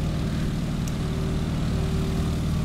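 Airplane engine droning steadily as the aircraft taxis along a runway in Microsoft Flight, a loud, constant low propeller rumble with no change in pitch throughout.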